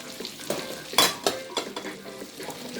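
Onions frying in bacon fat with garlic and tomatoes in a pan, a steady sizzle with several louder utensil scrapes and clinks.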